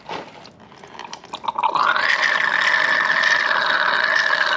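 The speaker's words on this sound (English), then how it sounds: "draining the coolant out" Coolant from a 2005 Yamaha R1 motorcycle drains into a catch pan, starting as faint drips and turning after about two seconds into a steady, close, continuous stream of liquid pouring down.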